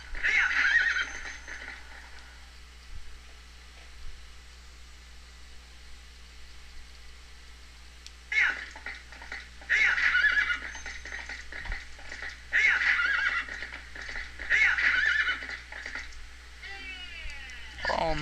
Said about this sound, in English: come on, stupid horse, hop the fence